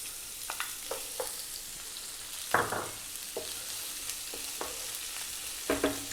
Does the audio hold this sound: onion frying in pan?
yes